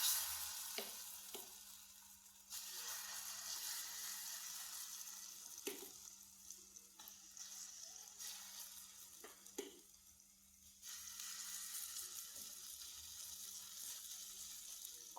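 Ghee sizzles softly in a pan for a potato egg breakfast, with a steady quiet frying hiss, several light clicks and scrapes, and a low steady hum underneath.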